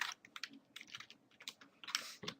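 Soft, quiet clicks of keys on a computer keyboard in an irregular typing rhythm, a short burst of keystrokes with no one speaking.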